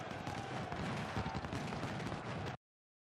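Dense, continuous rattle of rifle volleys mixed with booming artillery shell bursts in a Civil War strategy video game, a steady battlefield din that cuts off abruptly near the end.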